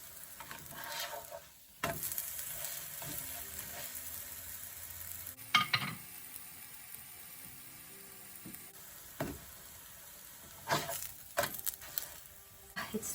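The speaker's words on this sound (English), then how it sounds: "So now we're just going to make sure it gets cooked well on both sides and gets these nice brown spots." Masala wheat roti frying in light olive oil in a pan, a steady sizzle running throughout with occasional louder scrapes and stirring bursts as it is turned, no talking.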